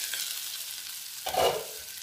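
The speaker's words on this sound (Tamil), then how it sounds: "பாருங்கள் அதை மெதுவாக பரட்டணும், மெதுவாக ஒன்று ஒன்றா பரட்டி" A homemade kids' snack sizzles and fries in a pan, with a steady hiss broken midway by a brief scraping stir.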